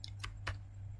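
Keys click on a computer keyboard in a few separate soft taps, spaced unevenly over a low steady hum, close and quiet with no speech.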